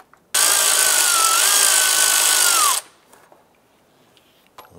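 A power tool whirs loudly and steadily for about two and a half seconds while loosening an 8 mm airbox clamp on a 2001–2005 Honda Civic, then stops, leaving faint handling noises.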